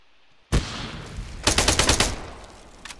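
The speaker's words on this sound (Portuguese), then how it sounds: "o cara jogou granada por ali" Arma 3 firefight with a grenade blast: a sharp explosive onset after brief silence, then a dense burst of rapid automatic gunfire that tails off, with a few faint distant shots at the end.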